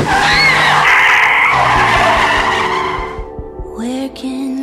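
A car skids hard with a loud, sustained tire screech lasting about three seconds before fading into quieter, lower tones.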